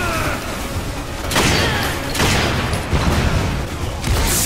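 Grenade blasts in the co-op shooter Lost Planet 2 go off as a series of sharp, loud bursts, about four in quick succession, each cracking over a constant din of battle.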